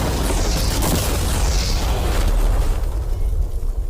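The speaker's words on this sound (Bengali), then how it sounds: "বিস্ফোরণটা এত জোরে হয়েছে যে ভিতরের ম্যানিকুইন গুলো ছিটকে এদিক ওদিকে বেরিয়ে গেছে।" An ordinary car with mannequins inside is blown up: one loud, roaring blast fills the whole few seconds with a rumbling low end before it starts to fade, with no voices over it.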